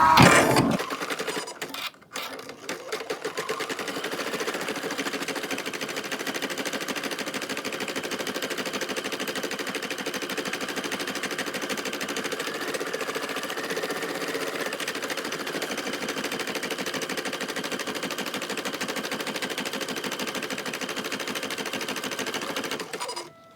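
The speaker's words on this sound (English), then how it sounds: "and we will sew the next step." Sewing machine stitching a fabric face mask, a loud, fast, continuous mechanical rattle running steadily for over twenty seconds after a brief start, close up with no talk.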